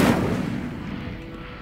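Incendio fire spell cast in Hogwarts Legacy, a single heavy whooshing blast with a rumbling low body that decays steadily over about a second and a half.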